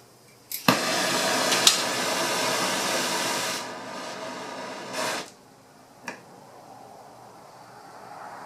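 A welding torch lights and starts welding metal on aircraft rudder and brake pedal parts, giving a steady loud hissing roar for several seconds that drops off, followed by short pops and a faint hiss.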